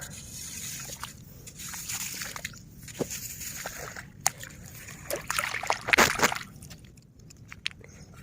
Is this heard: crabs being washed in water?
yes